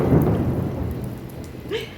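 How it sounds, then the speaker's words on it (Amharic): Heavy rain pours down outdoors in a thunderstorm, a dense steady hiss, with a low rolling rumble of thunder at the start that fades under the downpour. "ጥሩ ዝናብ አለ ውጪ ላይ ደስ ይላል"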